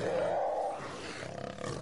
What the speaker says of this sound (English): Cougar.